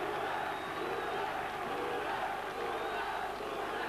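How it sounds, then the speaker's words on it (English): A stadium crowd roars and cheers without pause at a 1983 Welsh Schweppes Cup rugby semi-final between Pontypool and Bridgend, a dense, far-off wall of voices. "Listen to the crowd."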